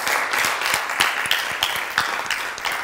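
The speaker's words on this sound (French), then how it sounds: "Je voudrais qu'on l'applaudisse très fort." Audience applause for a guest at a French-language talk event, a dense, steady patter of clapping with a few sharper individual claps, close and continuous without talk.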